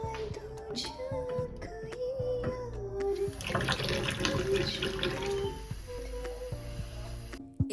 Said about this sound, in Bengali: চলুন দৌড়ে একটুখানি একে জল খাওয়ানো যাক